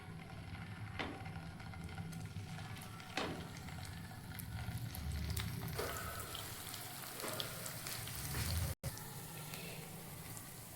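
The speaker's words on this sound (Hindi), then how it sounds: "अब हम हरा भरा कबाब को सेक लेते हैं। तो अब इसके लिए हम फ्राई पैन रख दिए हैं।" Hara bhara kabab patties frying in oil in a frying pan give a faint, steady sizzle with soft crackles and pops, close by, with a brief dropout near the end.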